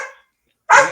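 A dog barks nearby, twice and loud, with a short gap between the sharp barks and no other sound.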